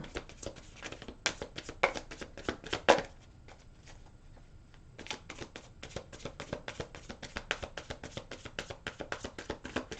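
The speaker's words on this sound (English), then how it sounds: "Okay, I'm going to keep shuffling until they feel right." Tarot cards are shuffled by hand close up, a long run of quick riffling taps and crisp flicks with a brief pause midway before the rhythmic shuffling resumes; no one speaks.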